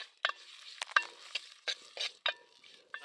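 Chopped shallots and slit green chilies sauté in a pan, giving soft sizzling under a run of distinct stirring scrapes and clinks that come in irregular bursts.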